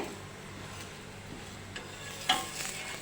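A paneer paratha cooks in oil on a pan with a soft, steady sizzle, close but quiet, and a brief scrape partway through.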